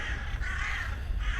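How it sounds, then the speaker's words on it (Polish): Crows caw in a Poznań winter scene, several harsh calls repeating over steady low background noise, moderately distant and without any talking. "Wrony się dokładają z życzeniami tłumnie."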